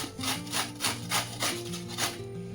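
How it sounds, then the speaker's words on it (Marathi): Ridge gourd being grated, rhythmic rasping strokes repeating about twice a second, close and steady, with faint tonal background music underneath. "आता आपण हे दोडके किसून घेणार आहोत"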